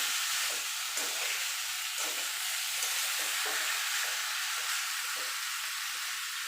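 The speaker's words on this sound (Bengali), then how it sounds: "আর দিয়ে দেবো কচুর লসিটা দিয়ে ভালো করে একসঙ্গে সব কষিয়ে নেবো" Steady, loud sizzling fills the scene as shrimp and taro stolons are stir-fried together with spices in a hot pan, the hiss continuous and close with faint stirring scrapes underneath.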